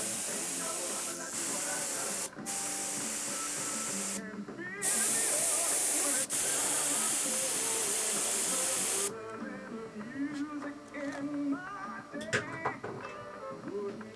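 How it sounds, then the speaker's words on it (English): An airbrush sprays ink in a steady close hiss that stops and starts in several long bursts, and a voice talks over parts of it. "Always hit the airbrush before you go anywhere near a part."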